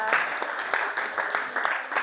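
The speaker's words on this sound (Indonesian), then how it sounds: "Tepuk tangan untuk Alia." A classroom of students claps for a classmate, a short burst of quick, uneven hand claps from a small group, fairly close and moderately loud.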